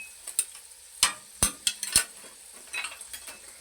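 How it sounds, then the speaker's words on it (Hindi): Green chillies and garlic stirred in a pan for taro root curry, with sharp metal spoon scrapes and clinks over a faint sizzle, several distinct strikes spaced irregularly, close and fairly quiet. "ये देखिए सब्ज मिर्चें, और साथ ही मैंने लहसुन डाल देना। अब हमने इसको अच्छे तरीके से फ्राई करना वा,"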